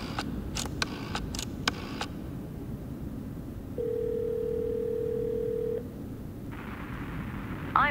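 A telephone handset gives a few short clicks and button presses, then a steady dial tone hums for about two seconds before a brief harsher tone follows.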